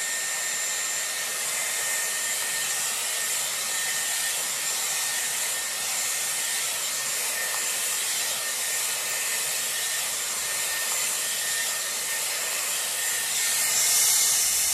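Dyson Airwrap styler blowing a steady, loud stream of air while drying hair with a round brush in a salon, a continuous broadband whoosh holding level for the whole stretch without talk.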